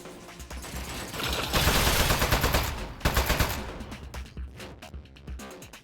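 Rapid turret gunfire from the video game Aperture Desk Job rattles out in dense, continuous bursts, loudest in the middle stretch with a brief break before resuming, then thinning into scattered shots near the end, with no talking.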